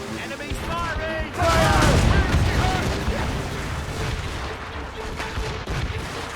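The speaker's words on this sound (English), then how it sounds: "Incoming fire! Enemies firing!" Heavy cannon fire from warships in Assassin's Creed Rogue rumbles in a sustained, dense barrage with booming low thuds, mixed with shouting voices and game ambience.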